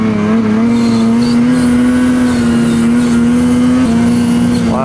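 2021 Ski-Doo Summit Expert 850 Turbo snowmobile running at high altitude, a loud sustained engine drone held steadily for several seconds with a brief pitch drop and quick rise near the end, heard up close.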